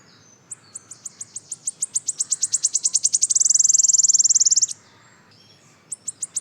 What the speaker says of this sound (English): Okay, that was a wood warbler.